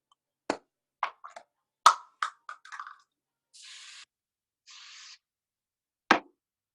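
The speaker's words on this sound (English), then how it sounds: "something as simple as sheen spray." Two short hissing bursts of sheen spray misted onto doubled sewing thread, set among scattered light knocks and handling taps and followed by one final tap, all close and quiet with no talk.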